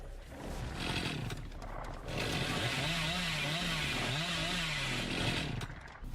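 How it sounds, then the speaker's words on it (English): A chainsaw revs in the Dead by Daylight video game, a loud buzzing whine that swells and wavers in pitch for several seconds alongside a growling, roaring tone, then cuts off. "And narrowly misses the chainsaw."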